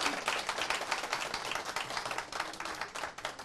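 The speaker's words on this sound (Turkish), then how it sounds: "Ama önce bir alkışlayalım" A TV studio audience applauds a singer, a dense, even burst of many hands clapping close by, lasting a few seconds without a break.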